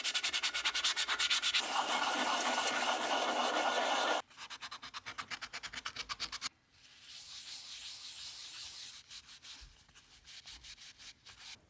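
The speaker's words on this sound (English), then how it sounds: "and then sand around the edges" Sandpaper rubbing around the edges of a CNC-cut wooden circle, a close, loud scratchy sanding in rhythmic strokes, first long continuous passes, then quick short strokes, then softer back-and-forth rubbing.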